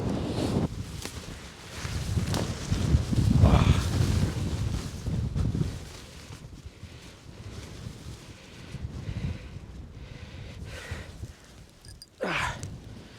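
Strong winter wind gusts at a wild camping shelter in sub-zero temperatures, buffeting the microphone in heavy rumbling waves that ease and return, ending with a sharp rustle.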